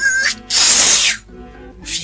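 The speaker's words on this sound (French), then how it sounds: "il fut pris d'une terrible envie d'éternuer." A loud, sharp sneeze bursts out alone, with a brief hiss-like breath before it and a fainter echo of the burst right after.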